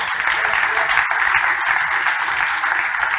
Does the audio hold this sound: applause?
yes